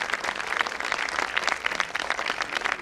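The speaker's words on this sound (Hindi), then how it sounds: "तो जरा जोरदार तालियां बजती रहे जब तक वो बैठ ना जाए।" An audience at a medical wellness conference's scientific session claps steadily for an invited air-quality expert. The dense, even applause fills the room from start to finish with no voices over it.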